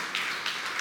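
Congregation clapping loudly during a Sunday evening Hindi church service, a dense continuous wash of many hands applauding together, close and full, with no speech.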